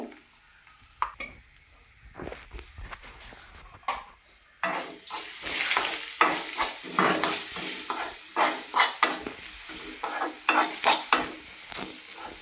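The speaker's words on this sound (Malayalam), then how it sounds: "ഇനി ചതച്ച് വെച്ച് അരപ്പിട്ട് കൊടുക്കുക ചതച്ച് വെച്ച അരപ്പ്" Crushed spice paste goes into a frying pan after some quieter kitchen clatter, then a louder sizzle follows with rhythmic scraping as it is stirred.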